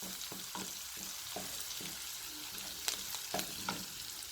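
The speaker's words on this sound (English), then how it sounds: "So chilies are in, and you just cook them." Chilies fry in a pan for daal, a faint continuous sizzle with light stirring taps and scrapes scattered across it, quiet and close, no voices.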